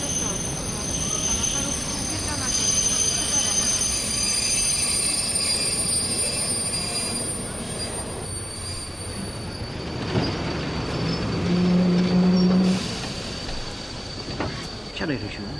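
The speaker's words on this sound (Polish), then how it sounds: "Opóźniony pociąg ekspresowy z Moskwy do Hanoweru wjeżdża na tor drugi przy peronie trzecim." A delayed Moscow-to-Hanover express train rolls into a station platform with rumbling wheels and a sharp metallic squeal of brakes, loud and close, with voices murmuring beneath.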